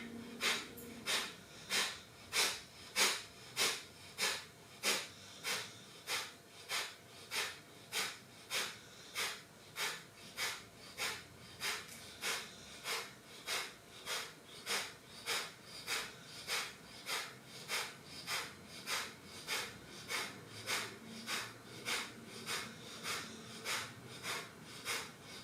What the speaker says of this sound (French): Kapalabhati, expire.